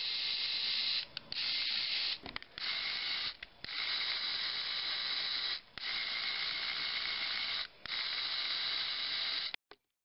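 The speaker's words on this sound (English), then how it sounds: "here's a little video snippet of the worm gear in action" Small worm gear mechanism from an EV3 robot build running with a steady, high whirring buzz, broken by several brief pauses and stopping near the end; heard alone, no voices.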